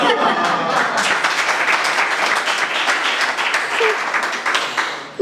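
A live comedy show audience in Goma breaks into loud, close, dense applause with scattered chuckles, holding steady for several seconds before dipping slightly near the end.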